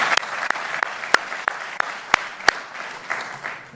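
An audience at a literary festival event applauds, a steady wash of clapping with a few sharper individual claps standing out, moderately loud and continuous throughout.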